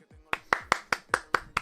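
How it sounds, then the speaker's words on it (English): Seven sharp claps in an even, quick rhythm, close and loud, like a small group or one person clapping along. "Let's clap it up."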